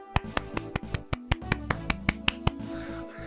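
Soft, even hand claps come in a steady run of about fifteen light claps with no voices.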